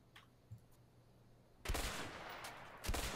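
Gunfire at a shooting competition in A Way Out, with a faint shot early on, then a loud sharp blast at 1.7 s and another near the end, each trailing into a noisy decay.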